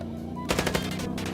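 A short, loud burst of rapid gunshots from the video game Chicken Police rises out of a humming game background and fades within about a second.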